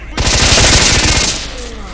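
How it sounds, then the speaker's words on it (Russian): Rapid automatic gunfire in S.T.A.L.K.E.R.: Shadow of Chernobyl, shot through a wall at the player, forms a loud, dense burst of repeated cracks for about a second, then fades into a softer, rumbling tail. "Кто в меня сквозь стену стреляет?"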